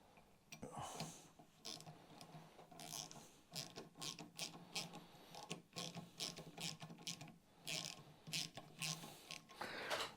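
A ratchet wrench tightens a bolt on the end cap of a Royal Enfield bobber, producing close, rapid bursts of mechanical clicking separated by short pauses.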